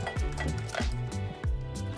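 Flour batter for Thai deep-fried shrimp (goong tod) being stirred with added water and ice cubes, giving wet squishing and sloshing in steady repeated strokes, close and moderately loud against a faint background hum.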